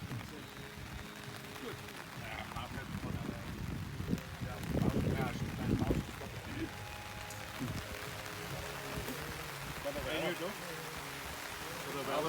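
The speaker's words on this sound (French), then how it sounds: "Et là, il pleut." Quiet, steady rain patters on a surface throughout, with faint voices and brief rustling in the background.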